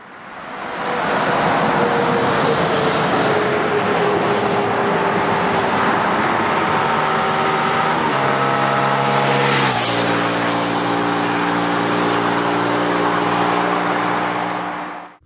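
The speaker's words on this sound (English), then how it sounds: "So then, let's take it for a ride." A 2022 Hyosung GV300S motorcycle pulls away on the road, its engine rising through the revs with audible gear changes. Steady wind rush runs beneath the engine, and the rider says nothing.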